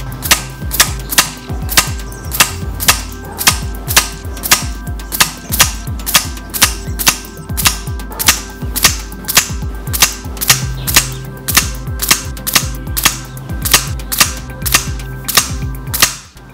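A high-power .177 air rifle fires Barracuda FTs pellets in a long, loud, close series of sharp cracks at a steady, rapid rhythm, with no one talking.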